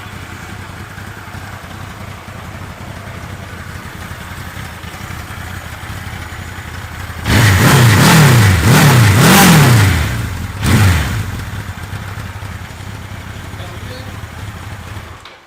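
Stock Suzuki GS1100E motorcycle engine idling steadily, then revving hard in several rising and falling bursts for a few seconds before settling back to idle, loud and close.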